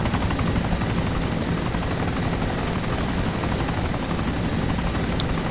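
A helicopter in the video game ARMA 2 drones with a steady, loud rotor and engine roar that stays constant throughout.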